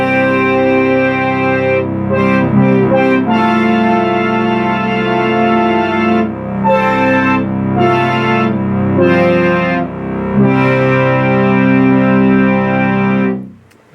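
Memorymoog polyphonic analog synthesizer running its sequencer on demo pattern data, a steady stream of layered, effect-heavy notes with chorus and distortion colouring, loud and continuous before cutting off abruptly near the end.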